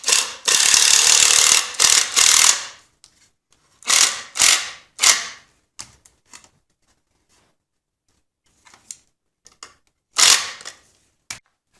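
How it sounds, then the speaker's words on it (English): Screws driven by a power tool into a reclaimed wood A-frame for a smokehouse: a long loud whirring burst, then several shorter bursts separated by quiet pauses and a few faint clicks. "I'm just going to screw these in from the top."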